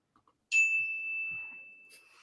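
A single clear bell ding marks the end of a sports debate show's round timer, ringing bright and sustained before slowly fading, with faint background noise.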